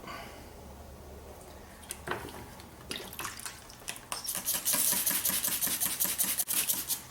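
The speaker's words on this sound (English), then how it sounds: "I'm just going to spray down these parts" A quiet hiss of room noise, then repeated quick pumps of a spray bottle of soapy water onto plastic seat parts from a 1997 Firebird, the sharp misting spurts growing louder and more rapid toward the end.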